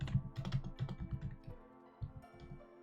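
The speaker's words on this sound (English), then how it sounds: "What are you typing?" Fast, uneven typing on a computer keyboard, close and fairly quiet, with clustered clicky keystrokes, a short pause, then a few more bursts.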